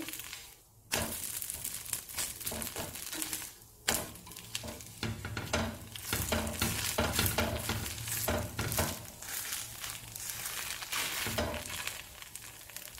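Dosa cooking on a seasoned iron pan, close sizzling and crackling with scraping and stirring touches in bursts, with two brief quiet breaks early on.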